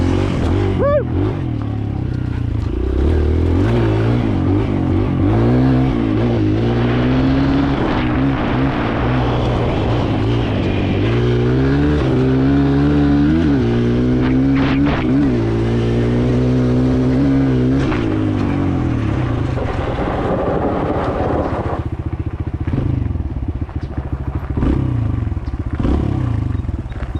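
A Kawasaki KLX 140L dirt bike ridden on gravel, its engine loud and close throughout, revving up and down in rising whines with a steady rough drone, easing off near the end.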